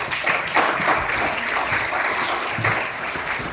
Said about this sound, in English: Let's have a great round of applause for Group 2.